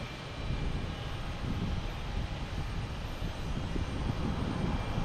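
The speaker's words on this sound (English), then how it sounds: "Another Cape Air coming in, a Tecnam 212 coming in from Lebanon, flight 1874" A Cape Air Tecnam 212 propeller plane lands at Boston Logan Airport, a steady, broad engine roar that holds at a constant level throughout.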